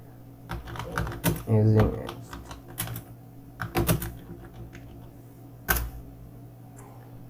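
Typing a prompt into ChatGPT on a computer keyboard: bursts of fairly close key clicks in uneven runs, heard under a voice speaking over a steady low hum.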